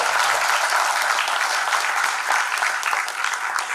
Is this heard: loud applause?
yes